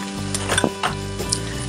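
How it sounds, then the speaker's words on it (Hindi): Onions and garlic cloves fry in a pan for a curry base, giving a steady close sizzle broken by brief stirring scrapes and clinks, with no talking. "हल्का गुलाबी होने तक हमने इसे भुनना है"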